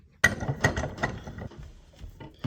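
A hand ratchet tightens a snowbike soft strut during maintenance, giving three or four sharp, evenly spaced clicking strokes up close, then fading to a few softer clicks.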